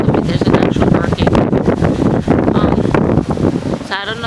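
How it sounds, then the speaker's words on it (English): Strong wind roars and buffets the microphone continuously, with a voice partly buried underneath. "It's quite windy."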